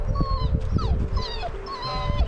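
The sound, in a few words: impatient dog whimpering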